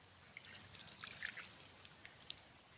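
Water poured over loosened, acidic peat soil during soil testing: a faint, steady trickle and dribble with scattered drips, quiet and close, with no talk.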